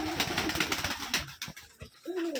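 Racing pigeons in a loft give low throaty coos close by, in a short burst of several calls with rustling between them.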